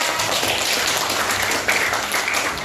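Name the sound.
classroom students clapping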